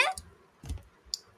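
Computer mouse clicks on a Play button in the Unity game editor, a few short, close, quiet clicks spaced apart over near silence.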